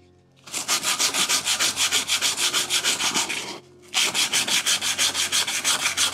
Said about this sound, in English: if you're just going with sandpaper, usually one small square is enough